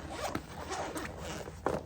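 A zipper runs around a portable electric food heating bag in a few quick, close, raspy pulls, fairly quiet and with no one talking.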